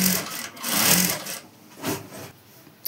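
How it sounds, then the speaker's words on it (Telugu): A sewing machine stitching fabric for a semi-Patiala garment runs in steady whirring bursts, stopping and starting at a moderate, close level, with no voices. "స్ట్రైట్గా ఇలా చూసుకొని నిదానంగా కుట్టు అనేది వేసుకోండి."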